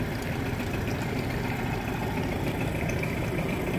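A 1994 Mercury 8hp two-stroke outboard motor idles steadily, a continuous close, even buzzing drone with no pauses.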